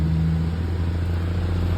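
A tow truck hauling a large lorry, a 3.5-tonne Isuzu Hicom truck pulled by a Mercedes-Benz, gives off a steady low engine drone and road rumble, continuous and moderately close, with no voices.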